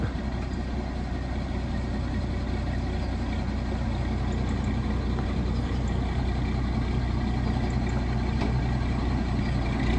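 A Massey Ferguson 168 tractor's diesel engine runs steadily and loudly while the tractor is driven, a constant low rumble with no breaks and no talking.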